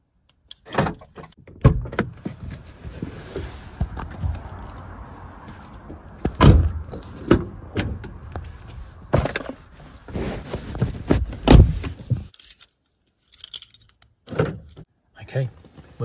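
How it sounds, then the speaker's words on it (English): A car door opens on a Zafira being used as a car camper, followed by a person climbing into the back seat: several sharp clunks and rustling bumps close by, with quiet thuds and shuffling and a few brief pauses. "quickly open the door and get in the back before anyone"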